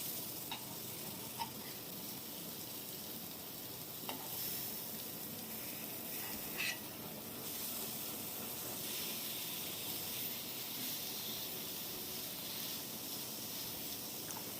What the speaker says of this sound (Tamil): கருக விடாமல் வறுத்து எடுத்துக்கோங்க